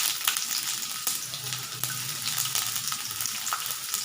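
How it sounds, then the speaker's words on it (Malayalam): Chopped shallots and coconut frying in hot oil for sambar, a steady crackling sizzle with sharp pops and stirring scrapes, close and alone. "അപ്പോൾ അതേ നമുക്കിനി അത് എണ്ണയിലേക്ക് ഇട്ട് കൊടുക്കാം"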